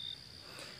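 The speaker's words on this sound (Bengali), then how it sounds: "ঝিঝি পোকা ডাকছে।" Crickets chirp at night in a continuous high, steady trill, faint and distant, with no other sounds around them.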